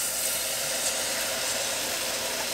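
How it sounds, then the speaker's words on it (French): Warmed cream poured into hot caramel in a pan, giving a steady, loud steamy hiss and bubbling sizzle that holds evenly throughout with no talking. "on ajoute les 100 millilitres de crème qu'on a fait réchauffer un petit peu au micro-ondes"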